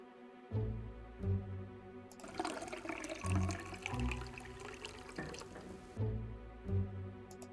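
Wine poured out in the Ben Jordan: Paranormal Investigator adventure game, a gurgling splashing liquid stream that swells loudly for several seconds between shorter glugging bursts, with no talking.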